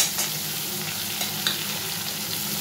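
Spice paste mixed with water is stirred into onions and chopped tomatoes frying in a pan, giving a steady close sizzle with faint spoon scrapes and no talking.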